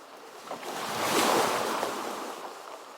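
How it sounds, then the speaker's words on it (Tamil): Ocean waves wash onto a sandy beach in a broad, hissing surge that swells to a peak mid-way and then recedes into a softer rush, with light wind and no voices. "அலை வந்து என் கால்ல தட்டுதே, சிரிக்குதே."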